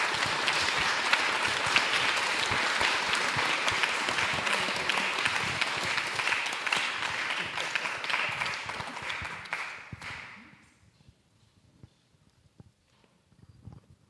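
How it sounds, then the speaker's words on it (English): An audience applauds panelists at the close of a talk on truth and bullshit: sustained dense clapping for about ten seconds, then tapering off to near silence. "let's give our panelists a round of applause"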